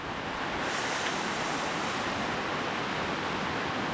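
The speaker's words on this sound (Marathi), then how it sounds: "वारं किती जोरात सुरू आहे" Strong wind roars across a campsite during a heavy monsoon downpour, a loud, steady broadband rush that never lets up, with no voices.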